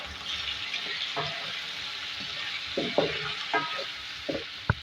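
Boiled beef, half a kilo, stirred with a bay leaf in a pot over heat, giving a steady frying hiss with repeated scraping clacks of the spoon that grow a little busier toward the end.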